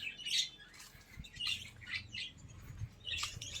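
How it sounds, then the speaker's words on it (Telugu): Small birds chirp in an enclosure at Kotappakonda zoo, with short bright bursts of tweets and squawks repeating irregularly, some nearer and some farther, over a quiet low rumble. "పిచ్చిక"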